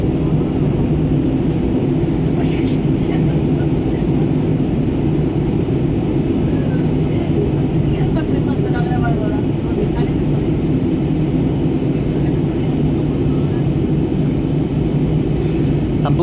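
A steady, dense roar of Airbus A320 jet engines during takeoff from Bangkok airport fills the cabin at constant loudness, broadband and unbroken, with faint scattered clicks over the rumble.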